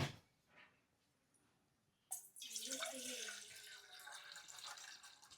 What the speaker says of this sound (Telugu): వాటర్ పోసుకోవాలండి